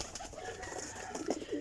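Champion flying pigeons coo softly in a loft, low gentle warbling calls repeating close by over a quiet background, with no talking.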